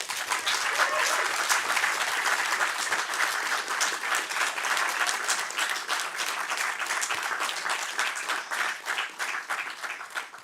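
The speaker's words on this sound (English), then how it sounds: "so we can give you a round of applause" A large audience at the 2024 NSC examination results announcement applauds with sustained, dense clapping that stays loud and steady throughout, tapering slightly near the end.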